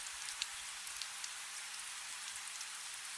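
Rain falling on stone patters in a soft, steady hiss with scattered sharper drops, faint and even throughout, with no voices.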